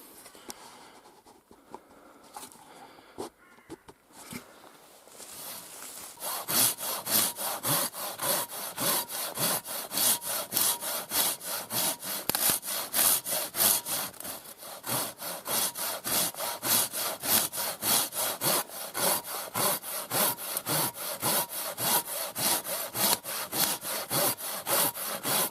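Hand saw cutting through a log to make a chopping block, quiet scraping at first, then steady rhythmic back-and-forth strokes, close and fairly loud, continuing without talk.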